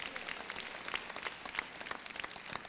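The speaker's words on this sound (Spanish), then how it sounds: "Y un aplauso a esa palabra" A church congregation gives a round of applause, a dense crowd of hands clapping steadily throughout the clip, with no one speaking over it.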